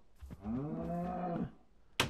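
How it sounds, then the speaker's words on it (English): A single drawn-out cow moo from a Minecraft cow, lasting over a second and heard close and clear, followed by a short sharp thump. "Why is there a cow in here? Get out of my house, cow."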